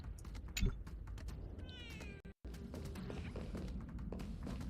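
A cat meows in a video game set on Herta Space Station, two or three clear meows over steady background game ambience, broken briefly by a sudden moment of silence.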